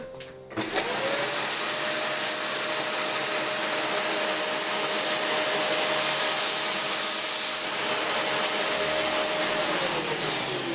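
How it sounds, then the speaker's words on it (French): A VAX C85-AM-B-E bagless vacuum cleaner with a 2-litre capacity switches on with its main floor brush over corn kernels, then runs with a loud, steady high-pitched whine and roar before winding down at the end. "si je veux aspirer ces grains de maïs avec la brosse d'aspiration principale"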